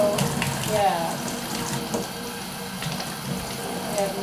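Tap water runs steadily into an old wine bottle found at a creek, a continuous mid-level gurgling fill that rises gently in pitch, with faint voices in the background.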